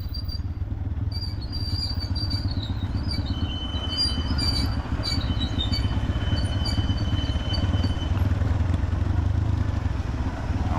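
A motorcycle ridden on a road on a memorial ride with cousins, its engine a steady low rumble with wind noise throughout, close and continuous, with no talk.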